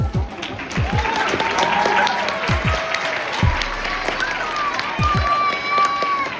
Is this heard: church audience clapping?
yes